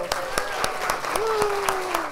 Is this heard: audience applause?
yes